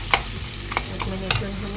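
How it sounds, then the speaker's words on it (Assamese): Indian olive pickle mixture is stirred in hot oil, a soft sizzle running beneath a few sharp scraping strokes of the spoon against the pan, close and fairly loud. "এইখিনি মই ভালদৰে এনেকুৱা গৰম তেলত মিক্স কৰি ল'লোঁ গোটেইখিনি"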